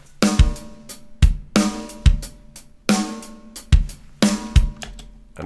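Programmed drum beat with hi-hat hits alternating between the tip and the edge of the stick over kick and snare, in a steady, moderate groove that repeats evenly and sounds close and clean.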